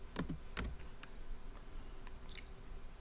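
A few quiet keystrokes on a computer keyboard, two sharper clicks near the start followed by sparse faint taps in a still room.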